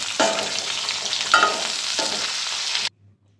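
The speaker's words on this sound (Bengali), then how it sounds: "হয়ে গেল আমার ভিন্ন স্বাদের কাঁচকলা ভাজা" Raw plantain slices and slit green chillies fry in a pan for a Bengali kaancha kola bhaja, giving a steady loud sizzle with a few stirring scrapes, then cutting off abruptly near the end.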